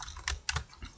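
Keys clatter on a computer keyboard while data is entered into a spreadsheet, a few quick close taps in short bursts with brief pauses between them.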